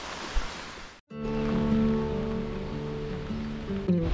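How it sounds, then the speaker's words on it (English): Heavy rain pours steadily at an old spa resort in Romania, a dense continuous hiss close to the microphone, briefly cut off near the start and then running on without pause. "Started raining pretty heavily now,"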